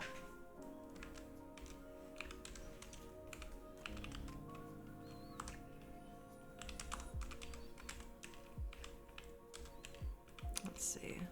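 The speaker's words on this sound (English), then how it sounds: "It's really not easy typing one-handed" Keys clatter steadily on a computer keyboard tapped one-handed, an irregular run of soft clicks throughout, with a voice talking quietly over parts of it.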